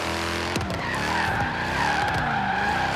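A Mercedes C63 AMG S Coupe drifts in Forza Horizon 3, its engine roaring steadily beneath a continuous, loud tire squeal, with revs rising and falling as the car slides through a chain-link area.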